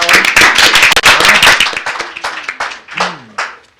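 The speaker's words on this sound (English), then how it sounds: "We clap on that" Audience clapping at a Shelton city commission meeting for Arbor Day, a brisk burst of many hands that thins into scattered claps and fades out, with a brief voice near the end.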